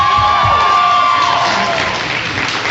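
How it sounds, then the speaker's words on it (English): Crowd applause mixed with cheers and whoops for a singer named Connie after a performance at a karaoke-style singing contest, loud and continuous throughout. "Round of applause, Connie."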